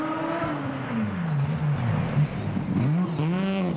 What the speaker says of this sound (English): Have a listen to that rotary.